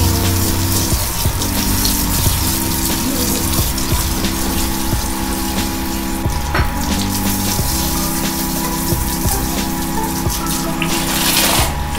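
Running water streams steadily while a medium long-haired Persian cat is rinsed during a bath, a constant close splashing gush with a pump-like hum beneath it.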